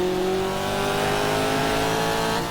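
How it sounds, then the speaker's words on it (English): A 1967 Trans Am race car in GTR2 pulling out of the pit lane at Daytona Road Course: a loud, steady engine drone holding a constant pitch, close and continuous with a slight rise near the end. "Pulling out of the pit lane as we got our tires and fuel."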